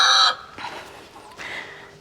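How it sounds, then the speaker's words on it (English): A rooster crows loudly and close at the start, followed by softer fowl sounds and faint background noise in a farmyard flock. "The roosters are getting along pretty well, surprisingly"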